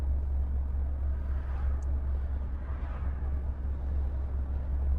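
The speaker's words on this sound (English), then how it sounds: "the airflow, like as it comes through, kind of makes a weird sound" Steady low roar of air rushing in through the open rear windows of a Tesla Model Y cruising at speed, a constant buffeting rumble with no speech over it.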